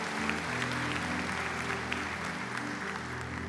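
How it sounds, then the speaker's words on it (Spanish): A church congregation claps loudly and steadily throughout, as a dense wash of applause over sustained tonal music in the background. "Si le va a aplaudir, hágalo fuerte para el Señor."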